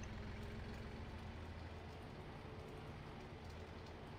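A sugar cane planter in Farming Simulator 17 runs at a steady low rumble, its engine droning evenly and close throughout.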